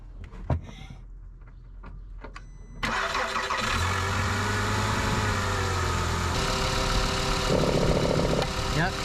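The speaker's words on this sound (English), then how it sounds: "Yep, so you can hear the exhaust" An engine turns over and catches after a few clicks, then runs steadily with a rough, breathy exhaust note, close and loud, during a check of the secondary air injection system for a P0491 fault.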